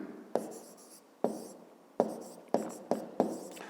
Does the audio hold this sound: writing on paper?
yes